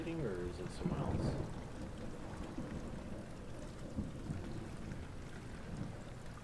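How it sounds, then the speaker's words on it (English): Rain and rolling thunder in the horror video game Amnesia: The Dark Descent, a low continuous rumbling wash of rainfall with thunder swelling near the start, with a brief voice at the start. "Oh, it's raining."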